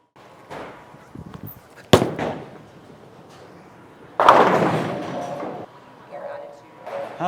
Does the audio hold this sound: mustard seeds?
no